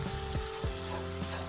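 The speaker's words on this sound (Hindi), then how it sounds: "मसाले अच्छे से भून गए हैं।" Tomatoes and spices frying in a pan for rajma, a close, steady sizzle with low hum and a couple of quick stirring scrapes.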